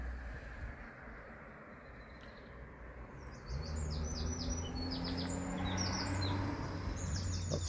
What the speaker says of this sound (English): Birds are singing, that's lovely.